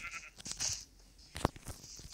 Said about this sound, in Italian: Pecora!